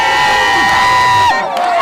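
A jubilant crowd in Mweso, Bashali Mokoto groupement, welcomes Bahati Musanga Erasto with loud, sustained cheering, with voices rising and blending into a continuous roar that dips slightly near the end.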